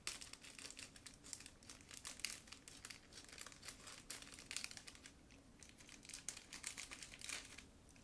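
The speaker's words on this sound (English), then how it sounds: "It's a sealed plastic bag, by the way, so let's open it." A sealed plastic bag holding sprues for a Miniart 1/35 German tank repair crew model kit is torn open and handled, giving steady close crinkling and crackling for about eight seconds with no talking.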